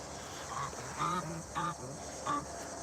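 Four nasal honks from geese, spaced about half a second apart, fairly close over a steady background hiss.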